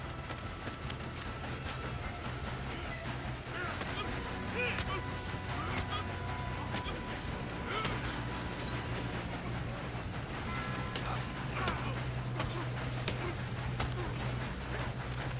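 Train running on rails in the Western action game Red Dead Redemption 2, a steady loud rumble with metallic clatter and impacts throughout, with game noise layered over it.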